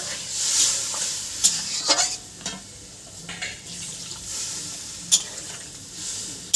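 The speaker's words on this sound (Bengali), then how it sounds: "এবার 1 মগ জল দেওয়া হবে" A mug of water goes into a hot pan of potato and soybean curry, giving sharp sizzling bursts and scraping stirs of a spoon against the pan, close and clear, with no voices.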